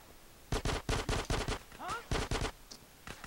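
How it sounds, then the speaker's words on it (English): Rapid bursts of automatic gunfire crackle in GTA San Andreas, several close, loud volleys of quick shots in a row with a short gap and a voice-like cry in between. "Who's shooting at me?"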